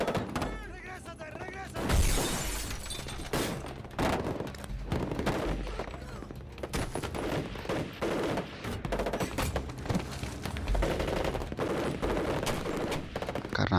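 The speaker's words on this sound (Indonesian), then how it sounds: "saat itulah baku tembak terjadi" Dense gunfire in a film shootout scene, with rapid bursts of shots and sharp cracks running almost continuously, loud and close, mixed with other action sounds.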